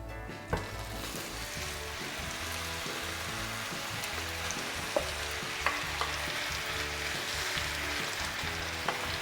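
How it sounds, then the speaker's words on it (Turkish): Chopped meat for homemade döner sizzles steadily in a hot pan with melted butter, a dense crackling hiss with occasional sharp pops and light clinks, no voices. "Doğradığım etleri tavaya ekliyorum."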